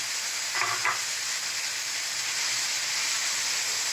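Capsicum and radish leaves hiss and crackle in hot tempering oil as a loud, steady, close sizzle, with a brief scrape of stirring early on.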